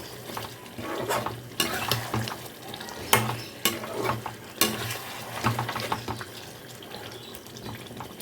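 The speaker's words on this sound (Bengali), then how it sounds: "এখন আমি এটাকে দু মিনিটের মতো পটলটা মশলার সাথে একটু কষিয়ে নেব" Pointed gourd (potol) sautéing with spices and salt in a pan, with repeated stirring scrapes and soft sizzling, plus louder clatters of the spoon against the pan at a few moments.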